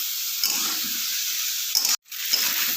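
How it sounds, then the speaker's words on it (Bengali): Vegetables stir-fried with turmeric water in a pan, a steady soft sizzle and hiss with faint stirring scrapes, broken by a brief silent cut near the end. "আর এবার আঁচটা নিভিয়ে এটাকে বেশ ভালো করে কষিয়ে নেব।"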